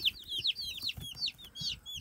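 Tiny meat chicks in a brooder peeping and chirping rapidly, a busy overlapping chorus of high calls, close but fairly soft.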